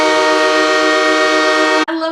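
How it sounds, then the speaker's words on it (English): A goal train horn blares at a hockey game in the Staples Center, one loud, sustained, richly harmonic blast held for nearly two seconds before it cuts off into arena noise. "I love that train horn."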